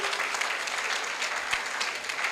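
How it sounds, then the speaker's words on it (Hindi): Applause from a seated audience at a community gathering, a steady dense wash of clapping hands sustained throughout without any voices over it. "कार्यकारिणी के लिए भी जोरदार तालियां होनी चाहिए।"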